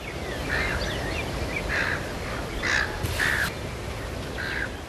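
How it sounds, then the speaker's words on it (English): Several birds call outdoors on a Tasmanian golf course, with harsh crow-like caws repeating at intervals over a steady wash of background noise. "You can hear the birds."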